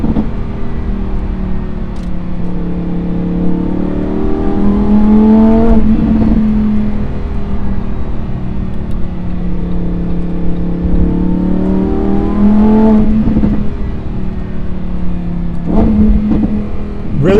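A naturally aspirated Lamborghini Huracan STO engine revs loud and close in repeated rising pulls, each climbing in pitch through the gears with brief drops between shifts, heard from inside the cabin with no talking.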